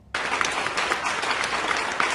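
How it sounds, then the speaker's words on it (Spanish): Large final applause breaks out abruptly and holds steady, a dense continuous wash of many hands clapping with no talk over it. "con un gran aplauso final"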